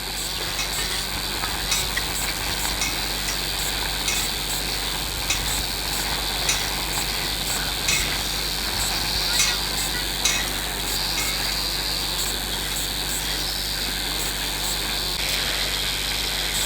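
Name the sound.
stirring onions, ginger and garlic frying in a pan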